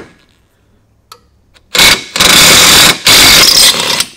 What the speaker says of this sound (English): Clay, can I use that 3/8 cordless impact we had laying around here?